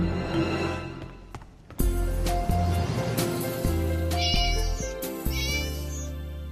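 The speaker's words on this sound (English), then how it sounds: "A hero can't turn their back on a poor kitty in distress." Several high, drawn-out cat meows ring out over busy music, with loud bursts and harmonic squeals toward the end.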